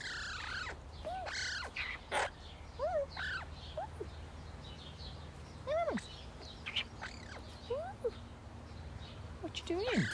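A crow gives repeated short cawing calls, close and fairly loud, scattered over a steady low hum while a person talks in between.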